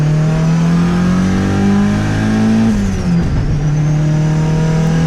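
A turbocharged Honda Civic wagon launches on dirt after brake-boosting near 4,000 rpm, its loud close engine drone holding steady, dipping briefly as it shifts, then climbing again without speech.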